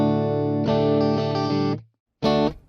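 Electric guitar played clean through a Boss ME-90 multi-effects unit with compression, reverb and delay switched off: a sustained ringing chord that decays to silence, then a second short, bright strum that is cut off abruptly.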